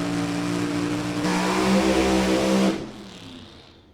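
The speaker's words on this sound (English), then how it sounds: "it kind of pulled the motor down a little bit when he dropped the clutch" A loud drag racing car engine roars and bogs under load as the clutch drops, with tire shake pulling the motor down, revving hard for a few seconds before cutting off and fading away.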